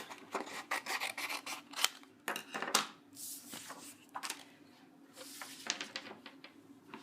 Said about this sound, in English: so I'll go ahead and just cut this out